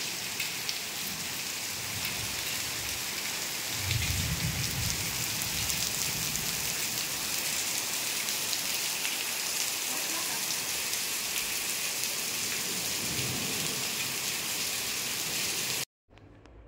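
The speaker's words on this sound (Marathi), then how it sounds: "फक्त पाऊस थांबण्याची वाट बघायची" Steady heavy rain in Ubud, Bali pours down for the whole stretch, a dense continuous hiss, until it cuts off abruptly near the end.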